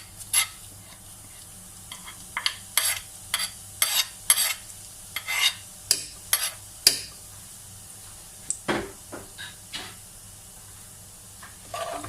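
Cumin seeds hit hot oil in a pan for chicken biryani, giving a string of sharp, separate crackling pops and sizzle bursts, some close and loud, over a quiet kitchen background with no talking.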